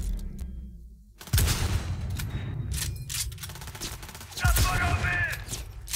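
Bursts of rapid gunfire in the video game Cyberpunk 2077 crackle in the foreground, with a second heavy volley a few seconds later over a busy, noisy background.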